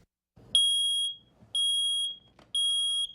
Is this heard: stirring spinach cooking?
no